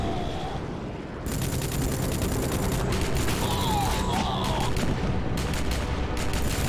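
Dense, continuous bursts of gunfire and explosions from enemies shooting in the video game Rogue Trooper, loud and busy throughout, with rapid cracks layered over a rumbling battle din.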